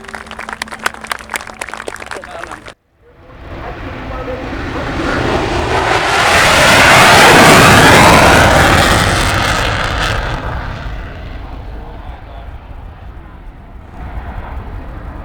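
Aircraft of an aerobatic team fly past at Farnborough Airshow, a loud roaring engine sweep that swells to a peak and fades, following applause and a brief burst of crowd noise at the start.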